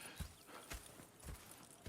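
Horse hooves clip-clopping in Red Dead Redemption 2, four distinct evenly spaced hoof strikes at a slow walking pace, quiet and close with no voices over them.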